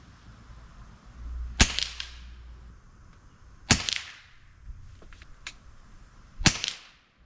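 Three sharp pistol gunshots fired at a 50-yard range with SK Pistol Match Special ammunition, each crack followed by a short decaying echo, spaced a couple of seconds apart outdoors with light wind noise.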